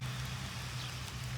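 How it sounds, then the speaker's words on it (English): Drizzly rain falls steadily outdoors in a garden, a soft even patter with a constant low hum beneath it and no voices. "It's just rainy out here. I like the drizzly rain"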